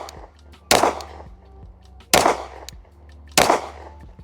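A West German SIG Sauer P226 pistol fires three sharp, loud shots at roughly evenly spaced intervals of about a second and a half, each crack ringing out with a short echoing tail.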